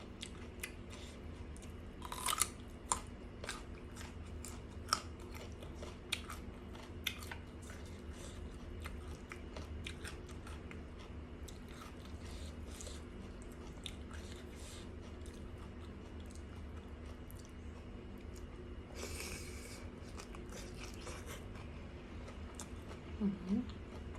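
Squid being bitten and chewed close to the mic, with soft wet crunches and squishy mouth sounds in an irregular rhythm, a few sharper bites standing out, and a quiet voice now and then.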